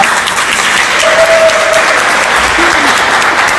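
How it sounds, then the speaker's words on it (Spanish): An audience at a book event applauds a guest, steady full clapping from a crowd that fills the whole stretch, with brief faint voices or whistles rising above it. "Un aplauso para ella."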